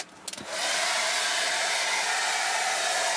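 A hair dryer runs inside a camper van on a cold, snowy winter trip, starting with a few bumps and then blowing as a loud, steady, close whoosh.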